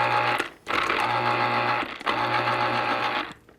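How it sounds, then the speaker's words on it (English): An electric citrus juicer motor runs in loud, close bursts of steady whirring, pausing briefly between runs, the sound of a two-direction reamer spinning to juice a lemon. "in no time at all, with its 2 directions, you get all the juice out of your citrus"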